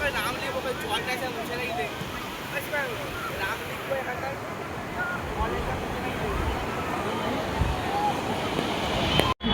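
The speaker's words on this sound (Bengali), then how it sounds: "কত সুন্দর ঢেউ আজকে।" Sea surf breaks on the beach at Digha in a continuous broad wash mixed with wind rumble, while people's voices chatter in the background throughout.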